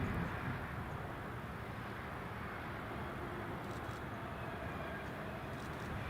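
A British Airways Airbus A320 airliner at Newcastle Airport produces a steady, broad engine roar that stays even and moderately distant throughout, with no talk.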